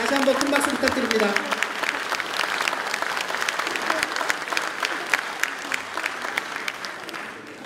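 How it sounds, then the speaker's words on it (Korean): Loud, sustained audience applause fills a hall after a string quartet concert, dense clapping running steadily throughout, with a voice briefly heard over it near the start. "다시 한번 큰 박수 부탁드립니다."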